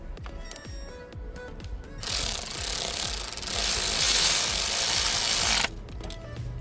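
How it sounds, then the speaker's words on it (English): A bolt is driven into a Mercedes M276 V6 engine with a power tool: light rattling and clicks, then a loud buzzing, hammering whir of several seconds that cuts off abruptly. "Now we have to install the bolt."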